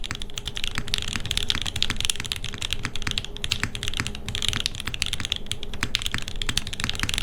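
Fast, continuous typing on a heavy, gray, brass-weighted top-mount 65% mechanical keyboard, with dense clacky keystrokes and occasional heavier thocks, close up and steady with no talking.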